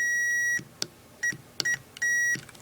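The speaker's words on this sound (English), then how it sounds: "That's the mode where if you touch the two probes together, it beeps." Digital multimeter in continuity mode beeping as its two probes touch pins on an AVR microcontroller circuit: three steady, loud electronic tones, roughly half a second each, separated by short clicks of probe contact, with no talking.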